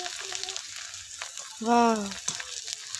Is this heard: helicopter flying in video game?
no